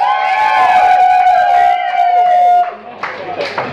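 A club concert crowd at a tribute show cheers, whoops and claps loudly and continuously, with sustained music tones fading under the noise before scattered applause continues.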